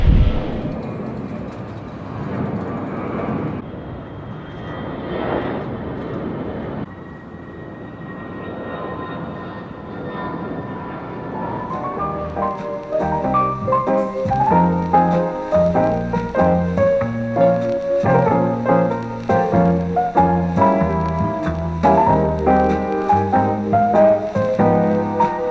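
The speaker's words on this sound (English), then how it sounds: "There's a Southwest flight about to take off, and this will be the closest I've ever been to an airplane that is taking off." A Southwest Airlines airplane taking off nearby sends out a deep, rumbling jet roar that builds over about ten seconds, then music takes over and covers most of it.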